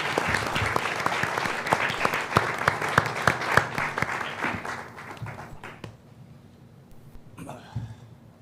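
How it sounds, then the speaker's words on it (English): A town hall audience in Laredo applauds the panelists, with brisk, crisp clapping that tapers off after about five seconds into scattered claps, followed by a brief cough or throat clearing. "please, a round of applause for our panelists as we get started"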